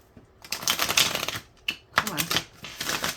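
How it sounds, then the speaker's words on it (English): Tarot cards are shuffled by hand for a daily Virgo reading, giving several quick riffling bursts of papery flutter and slaps, close and fairly loud, separated by brief pauses. "Last shuffle here for Virgos."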